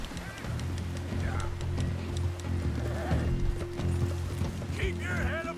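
A horse neighs and whinnies in the video game Red Dead Redemption 2 over a steady drone of galloping hooves clip-clopping, with a second shrill whinny near the end amid a busy background hum.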